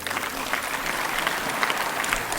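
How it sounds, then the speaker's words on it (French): Applause from a congress audience of African notaries during a presidential speech, dense sustained clapping filling the room at close range with no voices over it. "Je vois le directeur général de la Caisse qui applaudit beaucoup"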